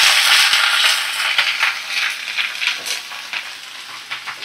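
Chopped onion, Malabar spinach, eggplant and potato fry in hot oil for a Bengali chorchori, giving a close, crackling sizzle with bursts of spatter and stirring scrapes.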